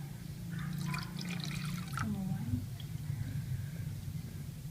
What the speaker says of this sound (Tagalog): Tapos ilalagyan natin siya ng 5 cup of water.